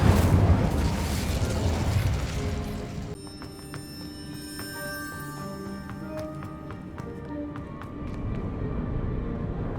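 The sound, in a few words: Incendio fire spell being cast in the video game Hogwarts Legacy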